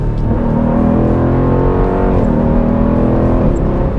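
A Dodge Durango R/T 392 V8 engine accelerates hard, a loud, steady, close throaty roar with rising harmonic tones held for the full few seconds, no talking over it.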